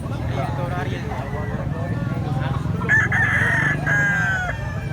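A rooster crows partway through over a busy background of chatter and crowd noise at a chicken market in Carbon, Cebu, the crow rising clearly above the din.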